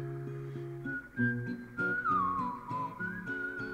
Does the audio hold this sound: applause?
no